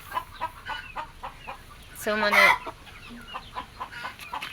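Silkie and Leghorn chickens released from their enclosure cluck in soft, repeated bursts nearby, with one louder squawking call in the middle, while someone speaks briefly.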